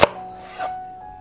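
A kitchen knife strikes a board once sharply while cutting chicken into small pieces, followed by a softer scraping sound and quiet room tone.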